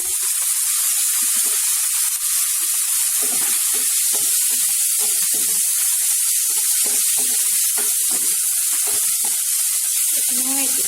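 Two tomatoes hit hot oil in a pan and fry with a steady, loud sizzle that runs unbroken throughout, with crackles and spits scattered on top and no talking.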